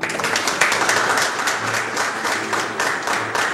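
Officials at a Foreign Office memorandum signing ceremony break into applause, a continuous wash of many hands clapping at steady strength from start to finish.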